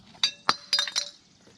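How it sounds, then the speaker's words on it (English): Someone pulls a metal cover off the wheel hub of a 2003 GMC Sierra 2500HD, giving a few light metallic clinks and rattles in quick succession, close and brief. "Pull this cover off."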